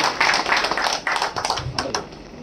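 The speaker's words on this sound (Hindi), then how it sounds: "एक बार जोर आ ताली" An indoor audience at a product testimonial gathering breaks into brisk clapping, many hands patting rapidly together close by and fading out after a couple of seconds.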